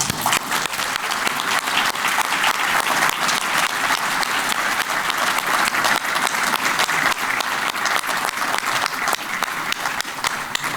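Sustained audience applause filling an annual bar foundation meeting hall as honorees are recognized, dense steady clapping from many hands for about ten seconds with no talk over it.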